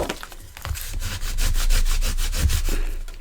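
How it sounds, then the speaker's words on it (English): Folded paper folios being burnished down firmly by hand, a rapid rhythmic rubbing and scraping, close and fairly loud, repeating back and forth without pause. "When you've finished doing it, you've got to really burnish these down"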